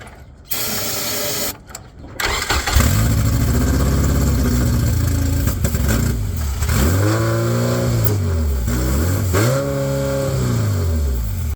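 A K-swapped Honda Civic EG hatchback engine runs for the first time after starting, revving loudly and close by, its pitch rising and falling in repeated sweeps and dips before settling into a steady idle.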